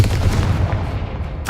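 Confringo blasting spell from Hogwarts Legacy going off as a loud, sustained booming rumble with crackling texture, followed by a brief bright magical shimmer at the end.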